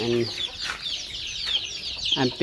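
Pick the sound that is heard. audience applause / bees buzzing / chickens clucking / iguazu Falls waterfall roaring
chickens clucking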